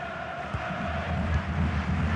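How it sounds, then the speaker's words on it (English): Simulated stadium crowd at a Shakhtar Donetsk vs Inter Milan Champions League match in a FIFA video game, Donbass Arena, late in the game: a steady, dense, full roar with no single voice standing out. "Well, just listen to the crowd."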